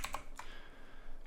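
Computer keyboard typing with a few quick key presses, including the Enter key, heard close and quiet at the start, then fading into faint room tone with no talk.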